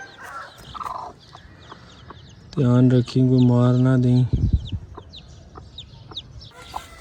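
Chickens and young chicks clucking and cheeping in short scattered calls around a farmyard, with a louder harmonic fowl call in the middle and people talking nearby.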